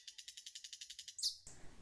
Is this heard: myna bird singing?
yes